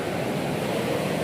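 Ganga river water roaring out through an open gate of the Narora barrage, a dense, continuous rushing roar, loud and steady, with no talking.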